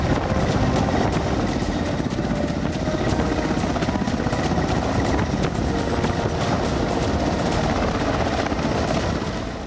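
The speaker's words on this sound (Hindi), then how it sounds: "MI-17 रूस का यह मिलिट्री हेलीकॉप्टर अपनी खूबियों और खासियत की वजह से हर देश की सेना को लुभाता है।" A Russian Mi-17 twin-engine military helicopter roars steadily overhead, its dense rotor chop and turbine whine loud and unbroken throughout, with no voices.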